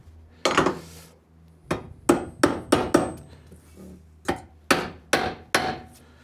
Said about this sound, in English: Tapping, tapping.